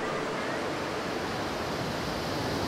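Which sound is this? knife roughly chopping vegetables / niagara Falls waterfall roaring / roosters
niagara Falls waterfall roaring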